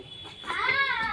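A single drawn-out cat meow, fairly close and clear, rising in the middle before tapering off, with light background noise.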